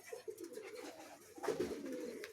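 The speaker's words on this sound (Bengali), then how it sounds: "খুবই চমৎকার এক পেয়ার কবুতর" A breeding pair of pigeons cooing softly in low, rolling murmurs over faint background noise, with a slightly louder coo near the end.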